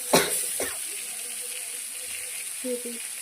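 Food fries in a pan with a steady, close sizzling hiss throughout, broken by a few sharp clinks near the start and a brief voice toward the end.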